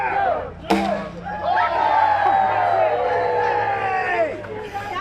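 A crowd chants 'Go Joe' together in a loud, steady stream of massed voices that follows a sharp opening burst and carries on without pause.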